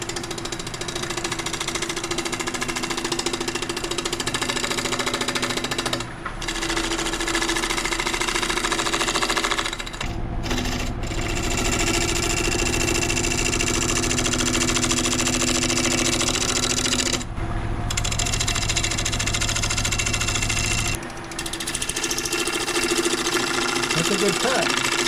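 A wood lathe spins steadily as gentle cuts shape a wooden platter held in chuck jaws, giving a continuous loud whir with short breaks where the tone shifts between passes.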